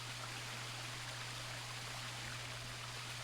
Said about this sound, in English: You could lie down and listen to the slosh of the waterfall